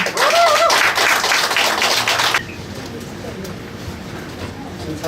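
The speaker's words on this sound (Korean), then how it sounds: "다시 한번 박수로 모시겠습니다" An audience claps to welcome the director of a smart content institute for a special lecture on presentation slide techniques, dense applause lasting over two seconds before cutting off to quiet room tone.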